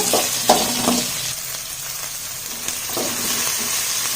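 Finely chopped small onions for sambar sauté in a hot pan, giving a steady broad sizzle with a few sharper stirring scrapes early on, close and moderately loud, no voices.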